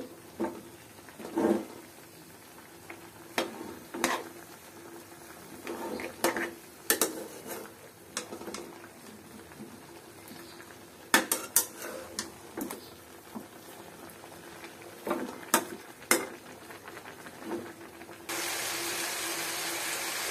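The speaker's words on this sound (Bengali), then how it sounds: "সবগুলো একসাথে দিয়ে ভালোভাবে মশলার সাথে এগুলো কষায় নিতে হবে।" Radish and eggplant stir-fried with spices in a pan, a quiet background with repeated sharp clicks and scrapes of a utensil against the pan, ending in a louder steady hiss.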